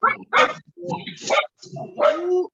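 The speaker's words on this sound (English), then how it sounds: "yeah, that's my dog." A pet dog barks in several sharp, close bursts separated by short pauses, loud and clear with little else around.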